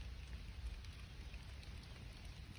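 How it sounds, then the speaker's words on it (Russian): Steady rain falling by a lake, a continuous soft hiss of drops with low rumbling texture, constant and fairly quiet throughout with no talking. "Дождик пошел."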